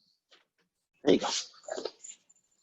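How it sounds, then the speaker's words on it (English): A pet dog gives a brief, close whimper, a short whiny burst with a softer trailing note, then quiet. "that was my dog paying me a quick visit"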